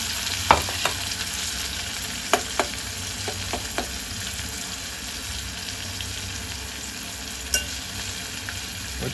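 Chopped tomatoes sizzle and fry in a hot pan at a steady hiss, with several sharp scrapes and clacks of stirring scattered throughout, for an omena and ugali lunch.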